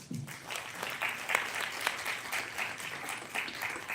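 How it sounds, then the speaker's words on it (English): Audience applause at a Bengali news event about a women's theatre course, a steady crowd of clapping hands sustained for several seconds, moderately loud, with no speech over it. "let's give an applause to that"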